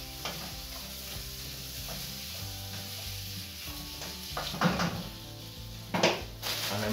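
Prawns sizzle in harissa in a pan while being stirred about, a steady frying hiss with scraping stirs and a couple of louder clatters near the end.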